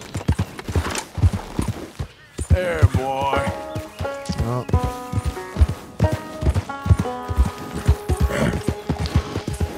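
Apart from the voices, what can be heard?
horse hooves clip-clop in the video game Red Dead Redemption 2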